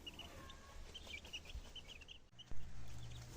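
Soft clucks from a bantam chicken in a yard come in scattered bursts over a quiet outdoor background, with a brief low thump near the end.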